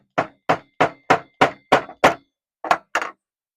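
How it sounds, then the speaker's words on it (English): Nine sharp hammer strikes setting metal snap buttons on overalls, a steady run of eight followed by a pause and two more, loud and close with no talking. "Once I started hammering, the two pieces mated for life"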